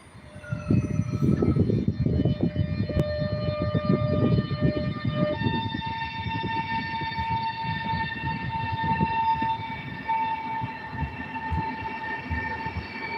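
Train pulling out of Gdańsk Główny station, rumbling wheels and clatter beneath sustained tonal whines that shift in pitch as it gathers speed, heard steadily from on board.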